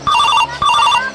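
A mobile phone rings in two bursts of an electronic ringtone with a brief gap between them, loud and close, with no talking.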